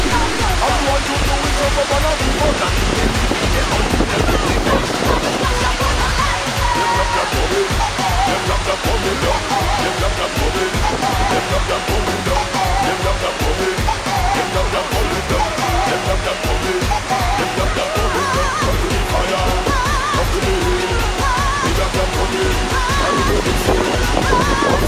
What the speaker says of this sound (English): The first fall we will visit is Concord Falls number 1.